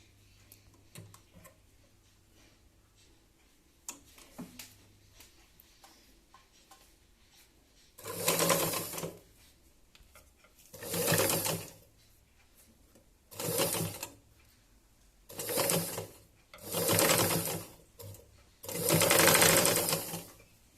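A sewing machine stitches a cotton cloth face mask in six loud bursts of rapid whirring stitches with short quiet pauses between them. Faint handling clicks come first.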